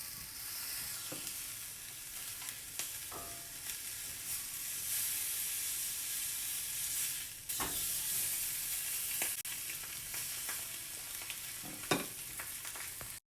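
Salmon frying in a pan, a continuous bright sizzle with occasional sharper pops and a few knocks, close and steady throughout.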